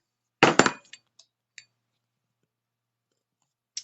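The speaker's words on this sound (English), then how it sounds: "little hoops with my ring mandrel and the chasing hammer" A chasing hammer strikes fine silver hoops on a steel ring mandrel: a sharp double metallic tap, then a few lighter clinks trailing off, with a final single tap after a pause, close and clear in an otherwise quiet room.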